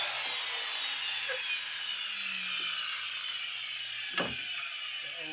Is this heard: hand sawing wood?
yes